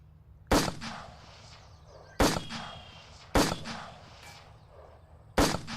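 Four sharp rifle shots at a virtual reality gun range game, spaced about one to two seconds apart, each with a loud crack and short echoing tail, heard alone without talk.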